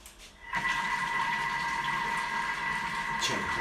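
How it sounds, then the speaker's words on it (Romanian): Yogurt churns inside a food processor at speed 3 while being blended for tzatziki, the motor starting abruptly after a moment of quiet and then whirring at an even, loud, steady pitch. "Sună susurul ăsta al iaurtului care se amestecă cu"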